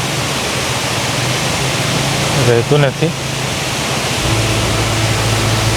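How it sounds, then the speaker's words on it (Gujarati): The Chimer waterfall in Dang district, running in monsoon season, gives a steady broadband rush of falling water. A brief spoken phrase cuts in midway, and the roar continues underneath it. "એ જો કેટલું સરસ મજાનું પાણી પડે છે."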